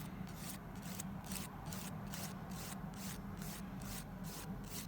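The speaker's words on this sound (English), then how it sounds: "file the sides. Pretty much as you file in any other acrylic nail, right?" A nail file of about 180 grit rasps along the sides of an acrylic nail with a fabric wrap, making steady, rhythmic back-and-forth scratching strokes, close but quiet, with no voices.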